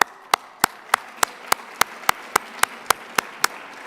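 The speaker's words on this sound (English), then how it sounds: "a hearty round of applause" A few people clap at a Colorado Springs youth citizenship awards ceremony, giving about a dozen sharp, evenly spaced claps from a small group standing for the caring adults.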